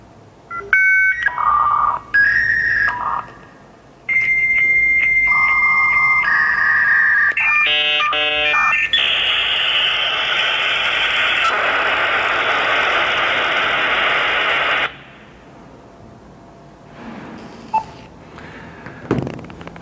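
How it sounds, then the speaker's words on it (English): A fax machine transmission: a sequence of dialing tones and beeps, then a long, loud, harsh handshake screech that holds steady before cutting off, followed by a few fainter tones, with no talk. "That was the sound of a fax machine."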